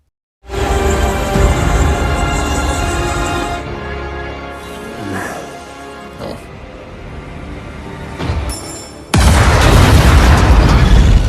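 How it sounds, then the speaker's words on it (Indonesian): Film explosion from Bloodshot as a character blows himself up together with his enemy: a loud booming blast with a long roaring tail, quieter debris rumbles and crackles in between, then a second heavy burst that sustains to the end. "ia berhasil juga mengalahkan Dr. Emil dengan ikut meledakkan dirinya sendiri bersama Dr. Emil."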